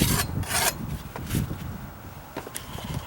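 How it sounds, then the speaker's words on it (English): A small hand rasp files wood on weathered deck stairs under dry-rot repair, with several close, scratchy strokes in uneven bursts that fade to quieter scraping. "I could take my little rasp to it"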